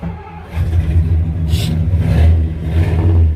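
A Ford F100 truck engine runs and revs close by, a low rumbling idle that swells in a few throttle blips over a few seconds.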